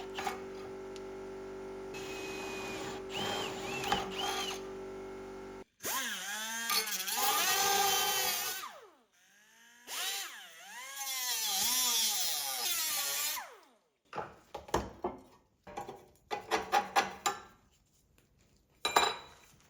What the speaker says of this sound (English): Finishing the final shape with this die grinder.